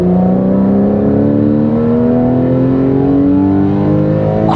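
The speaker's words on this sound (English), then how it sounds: "Oh, the flat six sing every time you press on the gas pedal." A Porsche 991 Carrera's 350-horsepower flat-six engine revs steadily and loudly up close, its rising tone climbing smoothly through the whole stretch with no talk over it.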